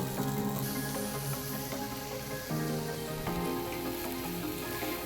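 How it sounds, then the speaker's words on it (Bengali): Potato pieces frying in a pan for a bitter gourd dish, a steady close sizzle running throughout at an even level, with no talk over it. "মিনিট তিন চার সময় ধরে আলুটাকে আমি ফ্রাই করে নেব"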